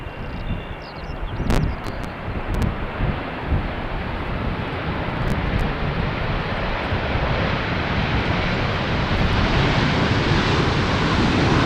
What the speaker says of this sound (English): It is a Boeing 777-300ER coming in from Cape Town, South Africa.